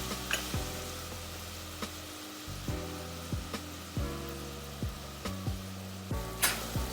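Onions sweating with garlic and ginger in a pan for a Caribbean chicken curry, a soft continuous sizzle with faint periodic clicks and stirring taps running steadily throughout.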